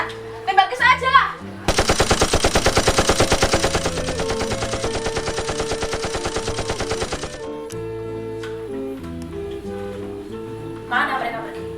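Rapid automatic gunfire sound effect plays during a school role play of the G30S/PKI events by grade 12 students, a loud sustained burst of several seconds with voices before and after.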